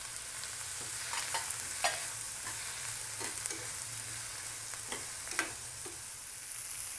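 Tomatoes and onions sauté in a pan for prawn masala, giving a soft continuous sizzle with scattered scraping and stirring clicks, faint and close, with no voices.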